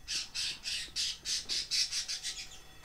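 A bird squawks in Left 4 Dead 2, about a dozen loud, harsh calls in a quick, even series, close and clear with no voices over them.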